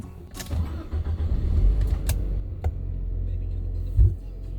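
A car with earlier battery trouble cranks and fires up, a few sharp knocks and clatter over a deep rumble that settles into a steady, fairly fast idle, close by, with no talk.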